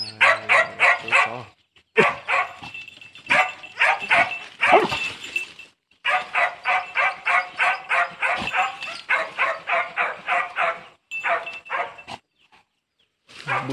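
A hunting dog searching bushes for a snake barks in rapid, loud bursts of repeated yaps, with short pauses between volleys.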